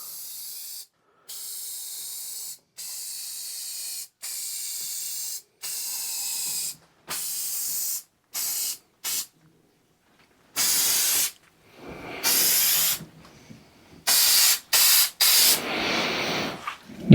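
Spray finish hisses from a can onto a wooden key hanger in a series of short and longer bursts separated by silences, close and loud, the last bursts denser and more rapid.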